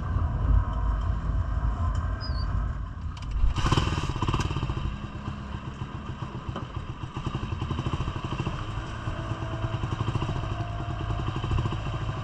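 A motorcycle rumbles and clatters as it is ridden onto a river ferry crossing, its engine steady and close, with a sharp thump of wheels over a ramp partway through and continuous mechanical rattling.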